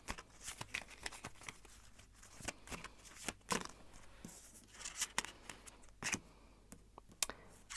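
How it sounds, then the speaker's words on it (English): A deck of tarot cards is shuffled by hand in a quiet room, giving a string of soft riffles and sharp snaps at irregular intervals, close and fairly faint, with no talking. "I'm going to shuffle a little bit more about this"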